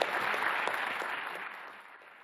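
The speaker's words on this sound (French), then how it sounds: "Je crois qu'on peut vous applaudir" Applause from a studio audience on a French-language television program, a dense steady patter of clapping that fades gradually over about two seconds, fairly quiet and with no talk over it.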